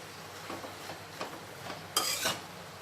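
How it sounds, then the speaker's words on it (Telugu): Chukka kura leaves are stirred in a pan with a spoon: a few soft scraping strokes, then a brighter, louder scrape of metal against the pan near the end, close and alone. "ఒకసారి ఆకునంతా కూడా ఇలా కలుపుకునేద్దామండి."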